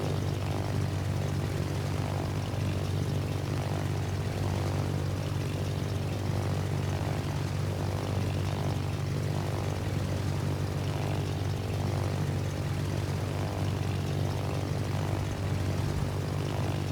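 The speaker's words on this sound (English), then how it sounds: "Fighter airborne." A carrier-launched fighter aircraft in World of Warships drones with a steady, continuous propeller engine hum, holding an even loudness throughout with no pauses.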